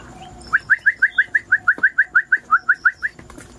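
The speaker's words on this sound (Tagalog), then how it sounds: "Ayan ayan mga sisiw." Chicks peep close by in a rapid, even series of about sixteen bright, loud chirps, with faint background noise and no talking.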